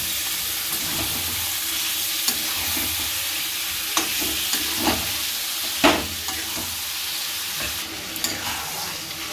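Chicken marinated in yogurt and lemon juice sizzles in a pan for a chicken rezala, with a steady hiss broken by scattered scrapes and clacks as it is stirred.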